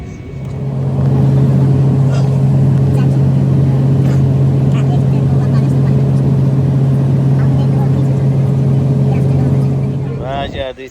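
Airliner engines drone steadily through takeoff on a flight to Georgia, a loud, even hum with a strong low tone lasting several seconds before easing off as a voice briefly speaks.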